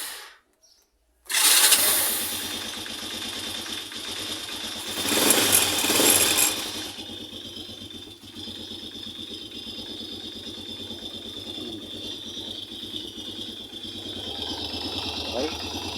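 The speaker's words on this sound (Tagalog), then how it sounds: "Start natin yung makina para masubok natin." A Racal MD100 motorcycle engine cranks and catches with a loud burst, revs briefly, then settles into a steady close idle that runs on for many seconds, with birds chirping faintly in the background.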